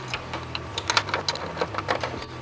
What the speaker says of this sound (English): then we'll screw it in place, but we will not tighten the bolt down